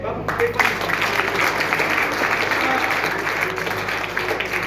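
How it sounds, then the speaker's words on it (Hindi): Audience members at a meeting hall clap in a steady, sustained wash of applause, moderately loud and even throughout, with a faint voice briefly audible near the start. "Hello, last 3 minute, Tali बजाइए।"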